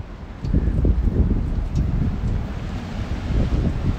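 Gusty wind roars and buffets the microphone outdoors during a windy-day wing cook, a steady low rumble that swells after the first half second and carries on throughout, with no one talking.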